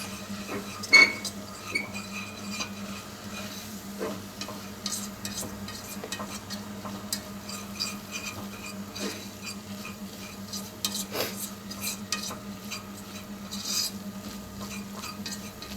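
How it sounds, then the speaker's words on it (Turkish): Flour is toasted and stirred in a pan: steady scraping and stirring with a soft continuous sizzle, occasional light clinks of a utensil, close and even throughout. "Evet unumuzu kavuruyoruz."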